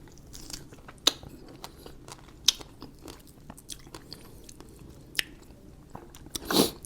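Fresh seasonal strawberries are bitten and chewed with a dipping sauce, giving a few sharp, close crunchy bites spread through the clip, with soft wet chewing between them and no talking.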